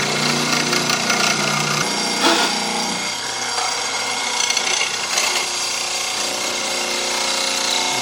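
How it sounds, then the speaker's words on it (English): Loud, steady mechanical grinding and whirring of a mortising machine cutting a square hole in wood, continuous throughout with a shift in pitch partway as the bit cuts deeper. "A mortising machine really is a simple device, and it does one thing extremely well: making square holes."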